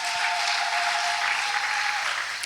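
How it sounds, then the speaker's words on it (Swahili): Church congregation claps steadily and loudly for a couple of seconds, a dense continuous wash of applause filling the room with no speech over it. "Pigie basi Bwana Yesu makofi mengi sana."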